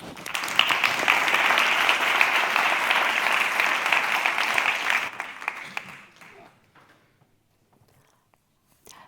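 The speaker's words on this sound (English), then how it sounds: "So please give a big applause to Aziz Mahdavi" An audience applauds steadily for about five seconds, then the clapping thins out and dies away into near silence.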